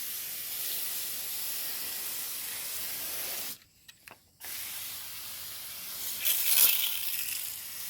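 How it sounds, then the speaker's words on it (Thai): Water spraying onto dry pumpkin plants makes a steady, close hiss that stops abruptly for a moment, resumes, and swells briefly near the end. "ก็ฉีดน้ำเขาให้เปียกนะให้เ ป็นการให้ปุ๋ยทางใบด้วยนะ"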